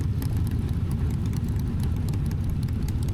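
Motorbikes cruise along a countryside charity ride-out, producing a close, continuous low engine drone that stays steady and fairly loud throughout.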